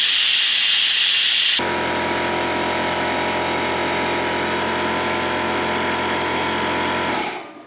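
Brake fluid being sucked through a Harley touring motorcycle brake line by a vacuum tool, heard as a loud hiss that drops into a steady mechanical whine and hum, then cuts off abruptly.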